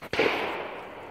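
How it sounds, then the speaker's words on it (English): A single loud gunshot-like crack bursts out nearby, followed by a long, fading rumble of reverberation as toy sheltie puppies play, with no voices. "Ooh, big gunshot."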